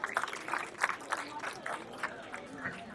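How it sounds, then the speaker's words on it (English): An audience applauds at a film promotion event for Tu Ya Main at Kala Ghoda, with scattered, rhythmic clapping and crowd noise rising in short bursts at moderate volume. "can we also have a big round of applause for Aditya Narayan?"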